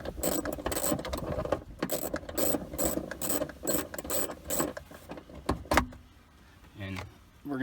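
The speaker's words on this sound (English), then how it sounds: "You're going to get your 10mm ratchet" A 10mm ratchet undoes a bolt on a storage panel inside a 5th gen Toyota 4Runner, with rapid close clicking in quick repeated bursts, then a brief clunk and quieter handling, while a person talks.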